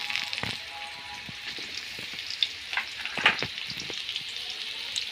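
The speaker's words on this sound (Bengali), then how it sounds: "আলু সবগুলো দিয়ে দিব ভেজে নেওয়ার জন্য" Potatoes frying in a pan of oil just after tengra fish were fried, a steady close sizzle with scattered pops and crackles and occasional scrape-like stirring sounds, no voices.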